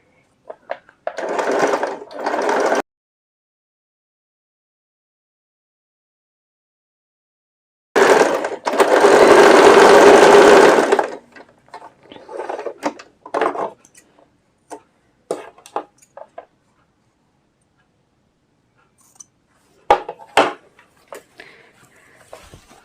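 Sewing machine stitching a readymade neck on fabric, heard in a couple of loud, steady runs separated by silence, then scattered clicks and handling noises close by.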